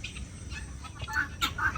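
Hens and roosters on a farm make faint, scattered clucks and brief chirpy calls, with a few louder notes near the end over low background noise.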